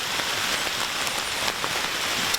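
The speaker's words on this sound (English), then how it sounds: "I think it's starting to come in heavier." Steady rain falls in Algonquin forest, a dense, even hiss of drops hitting leaves and ground close around, with a few sharper individual drop impacts standing out.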